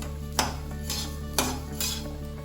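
Dry red chillies and coriander seeds are stirred in a pan while being roasted for kosthu podi, giving a few sharp scraping strokes against the metal over a steady low hum, close and with no talk.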